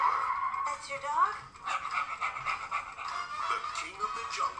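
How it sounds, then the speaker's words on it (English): A dog panting rapidly and rhythmically close by, with some soft whimpering tones mixed in, while people talk over it. "That's your dog?"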